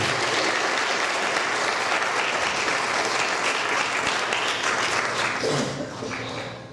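A recital audience applauds in a full, sustained round of many hands that holds steady for several seconds, then thins and fades toward the end.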